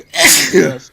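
Close and loud, a single sneeze in a dusty room, a breathy intake followed by an explosive burst and a short trailing exhale, with a brief spoken word.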